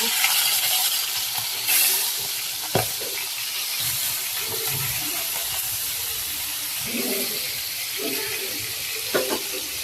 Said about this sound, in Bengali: তো এখন মাছগুলাকে ভেজে নিব।